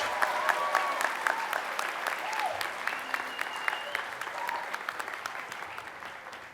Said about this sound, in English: How about a round of applause for faculty on the stage?